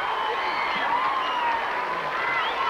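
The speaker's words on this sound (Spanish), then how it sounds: "Un aplauso como se merece" A television studio audience applauds a young performer's first public appearance on the 1992 variety show Siempre en Domingo, a dense, steady wash of clapping and crowd noise throughout, with faint shouts mixed in.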